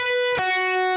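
A distorted electric guitar plays a brief lick, a sustained buzzing note that shifts to another pitch partway through, close and loud.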